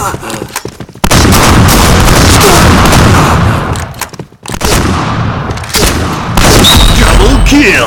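Shotgun blasts in the online shooter Point Blank, loud booming shots with heavy low-end bursts, several in quick succession separated by short pauses, with a game announcer voice over the action.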